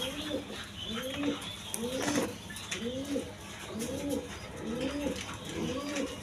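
Giribaj pigeons coo repeatedly, with about eight rhythmic rising-and-falling calls from one or more nearby birds over a busy background with faint voices.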